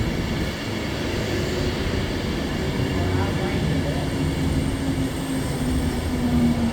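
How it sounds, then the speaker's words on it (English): An Avanti West Coast Class 390 unit, 390-039, runs into Nuneaton on the West Coast Main Line from Manchester Piccadilly to London Euston, a steady moderate rumble with a rising tonal whine, while speech is present. "arriving in now is the 1543 Advanced West Coast Service Manchester Piccadilly to London Euston"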